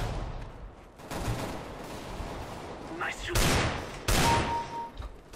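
Gunshots in Counter-Strike: Global Offensive, several sharp loud blasts at about one, three and a half and four seconds amid game ambience, with some voice in the mix.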